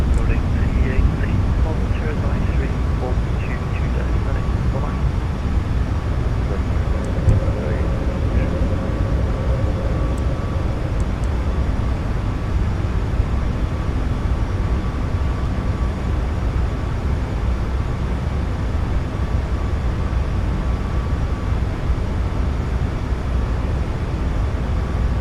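A Boeing 737 MAX 8 climbs after takeoff in the iFly flight simulator, its engines a steady, loud, unbroken roar throughout.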